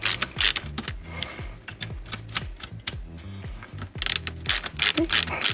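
Screw being spun down by hand on an HP DPS-1200FB server power supply, a close, steady run of rapid metallic ratcheting clicks and scraping that continues throughout with a few brief pauses.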